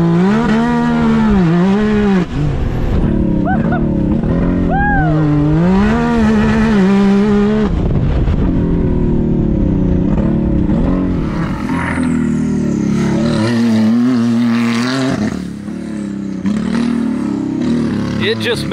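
A 350-horsepower Can-Am Maverick R side-by-side with an Evo Stage 5 tune and launch control, loud and close, its engine revving hard with rising and falling pitch sweeps, then launching with spinning tires, while people talk and exclaim over it.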